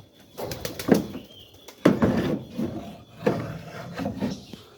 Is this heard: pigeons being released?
yes